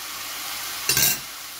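A spoonful of vinegary sauce hits a hot pan of shrimp noodles and bursts into a short, loud sizzle lasting about a third of a second, then drops back to a quiet background.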